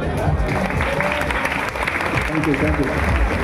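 An audience at a magic show claps together in a sustained burst of applause, dense and fairly loud, with voices mixed in underneath.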